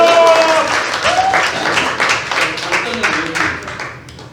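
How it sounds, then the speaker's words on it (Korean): An audience claps in a burst of applause that starts loud and gradually fades out over a few seconds. "박수 한번 주세요."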